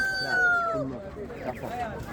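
At a Ganja poultry market, a Japanese-breed rooster gives a short, wavering crow close by while people talk and bargain nearby.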